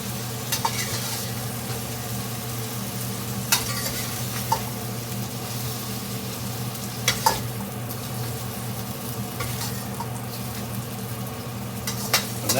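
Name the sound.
chicken fajita meat frying and being stirred in pan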